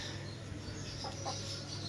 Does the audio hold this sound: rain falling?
no